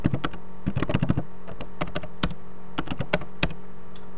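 A website name being typed on a computer keyboard, a quick irregular run of crisp nearby key clicks with short pauses between bursts, no one speaking.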